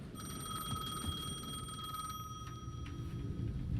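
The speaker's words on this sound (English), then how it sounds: "Phone at the edge of the plaza was ringing again." A phone rings at the edge of a plaza in the video game Alan Wake 2, a steady high electronic tone that carries over a low rumbling ambience with faint scattered clicks.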